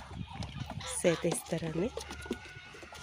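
Brooding hens sitting on their nests give low, soft clucks close by, partly under a voice speaking throughout.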